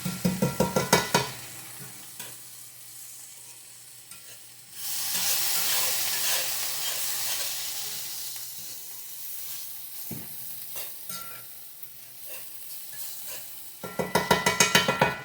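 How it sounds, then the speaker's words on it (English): Flour stirred and browned in a hot pan for Salisbury steak gravy, with a steady sizzling hiss that swells in the middle and bursts of scraping spoon strokes near the start and end. "Keep stirring, keep stirring."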